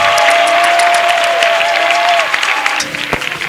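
A congregation at a prayer gathering claps loudly and continuously, a dense close roar of hands with a sustained tone ringing through, then easing slightly with a few louder claps near the end.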